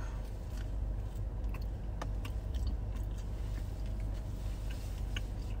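A pretzel dog dipped in cheese sauce is eaten close up, with soft repeated chewing and occasional crisp bites over a low steady background hum, no talking.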